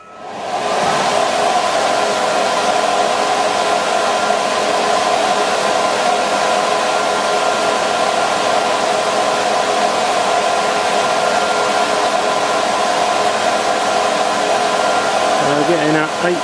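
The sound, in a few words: air blower driving a wind turbine test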